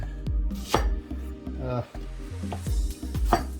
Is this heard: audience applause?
no